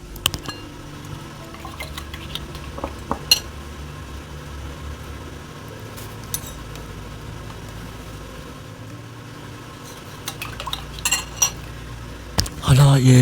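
A metal spoon clinks and scrapes against a pot while stirring spices, including turmeric, in scattered taps, close by, with a few louder knocks near the end; no one speaks.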